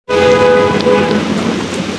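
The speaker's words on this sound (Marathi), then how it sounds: "एवढा नॉनस्टॉप पाऊस" Heavy nonstop monsoon rain roars loudly and close on flooded streets, a dense continuous wash with a tonal hum layered over it early on and no voices.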